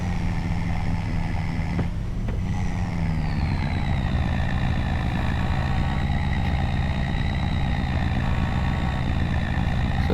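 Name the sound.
truck driving and shifting its gears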